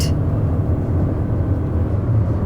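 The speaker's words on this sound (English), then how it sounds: "the minute you put your foot down, it can start to drone a bit" A Toyota Corolla Cross Hybrid engine droning under acceleration, a steady low hum and rumble heard from inside the cabin, with no talking.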